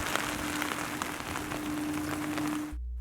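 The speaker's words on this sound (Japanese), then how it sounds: "この後雨がひどくなり、そんな雨の中を歩きました。" Heavy rain pours steadily while someone walks outdoors along the Shinminato waterfront in Toyama, Japan, a dense close hiss of drops with a faint tone running underneath before it cuts out abruptly.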